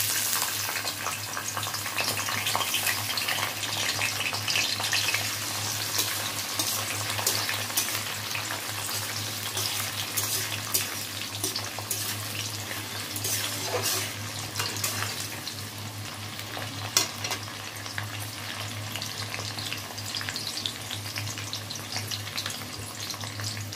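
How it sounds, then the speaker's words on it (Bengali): Cashews, raisins and almonds fry in a pan, giving a steady soft sizzle with occasional crackles and stirring scrapes, close and continuous, with no talking. "এর মধ্যে আমি কাজু, কিশমিশ আর আমন্ড বাদাম এই তিন রকম ভেজে নিচ্ছি"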